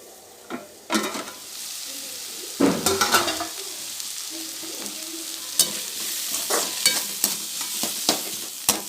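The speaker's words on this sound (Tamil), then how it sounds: "தக்காளி அது கூட சேர்ந்து வதங்கட்டும்" Tomato sautéing in a pan for bread sandwich filling, a close continuous sizzle with repeated scraping and clacking stirring strokes throughout.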